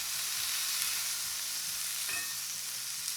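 Onions dropped onto a burger patty on a hot griddle for an Oklahoma onion burger, a steady loud hiss of frying fat with faint scraping, continuous and close with no voices.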